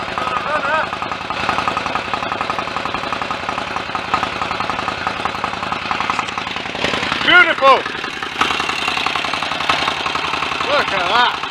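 The engine of a Royal Enfield 1000 cc Model K motorcycle runs close by with a rapid, knocking mechanical beat, rising briefly as the throttle is opened, while a person talks over it.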